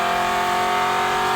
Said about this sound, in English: they're gonna hear that muffled exhaust